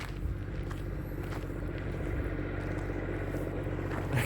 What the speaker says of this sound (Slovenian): Traktor gre.